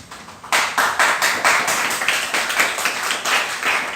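After a brief hush, an audience at a 2020 graduation ceremony breaks into clapping that holds a loud, fairly even rhythm of repeated claps.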